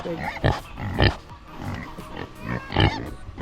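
Pigs grunting and snorting close by, a steady run of rough, throaty oinks with a few louder bursts.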